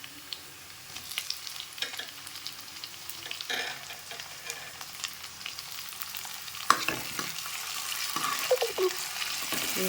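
Onions frying in a pan for chicken and potato curry, a steady close sizzle with occasional stirring scrapes and clinks, gradually growing a little louder.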